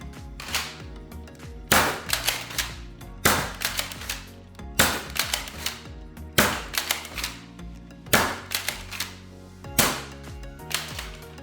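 Dart Zone Nexus Pro foam blaster shooting short darts from a Katana magazine: bursts of sharp, rapid mechanical cracks come in about six evenly spaced volleys, loud and close, with no talking.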